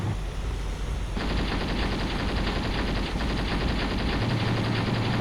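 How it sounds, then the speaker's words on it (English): Anti-aircraft gun firing in Graviteam Tactics, a sustained rapid stream of shots that starts after a second of quieter battlefield rumble and keeps hammering steadily at moderate distance, no voices over it. "is that another AA gun? They're definitely hitting something"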